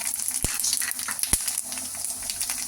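Mustard seeds sizzle in hot oil for a Tamil mor kuzhambu tempering, a close hiss with a couple of sharp pops, brief and fairly quiet.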